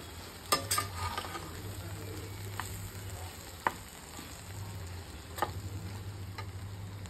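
Rajgira flour mixed with potato roasting in oil for a fasting-day upma, a soft steady sizzle with occasional sharp scrapes and taps of a spoon stirring the pan.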